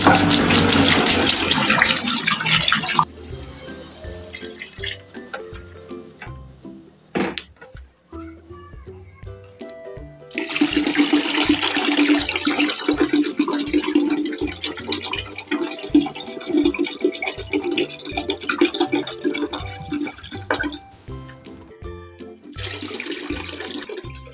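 About 14.5 liters of water poured into a bucket, loud gushing rush that breaks off briefly, resumes with burbling fill, then surges again near the end, no talk.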